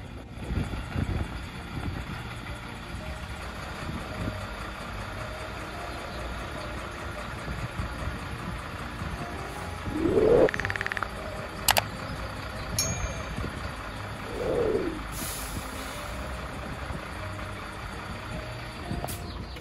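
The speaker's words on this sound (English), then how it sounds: "With the habitation box suspended, I slowly reversed the truck into place." A truck idles and creeps slowly in reverse while a habitation box hangs suspended above it, a steady low engine hum with a few brief clanks and creaks, no talking.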